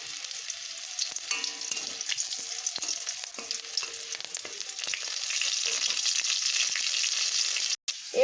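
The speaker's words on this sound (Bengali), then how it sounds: "আমি এখানে তিনটে লঙ্কা ফোড়ন দিচ্ছি কিছুটা পাঁচফোড়ন দিয়ে দিলাম" Dried red chillies and panch phoron sizzle and crackle in hot oil in a pan, a steady close frying hiss with scattered pops that swells louder toward the end.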